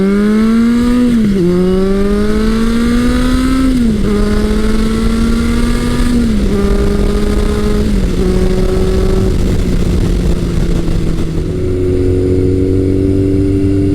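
A Kawasaki KZ1000 CSR motorcycle with an aftermarket exhaust pipe accelerates hard through several gears. Its loud, steady engine note climbs in pitch, drops briefly at each shift, then rises again, with continuous wind and road roar.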